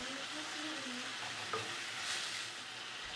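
Garlic sautéing with salt and red chili powder in a pan, a soft, fairly faint sizzle with a stir or scrape partway through, no voices.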